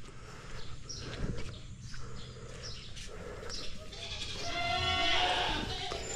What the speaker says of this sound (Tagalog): Si Kuya Didong nakabili na siya ng kambing dito.